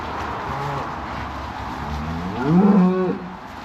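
On a farm during cattle sorting, a cow lets out one loud, close moo near the end, after quieter lowing and a low background rumble.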